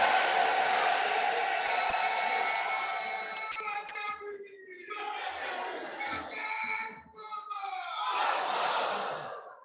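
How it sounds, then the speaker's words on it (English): A university convocation audience roars and cheers in a large hall, a loud sustained crowd wash with shouts and whoops that dips and swells again, with little distinct clapping. "Please let's give them a round of applause."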